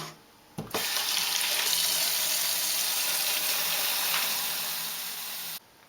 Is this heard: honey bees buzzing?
no